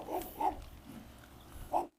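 Large Cane Corso puppies, about three and a half months old, give a few short grunting, snuffling yelps in quick succession, close by and moderately loud, before the sound cuts off.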